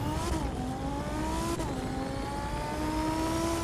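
Car engine racing in The Crew 2, a steady loud revving drone with rising pitch sweeps as gears shift, sustained throughout with no talk.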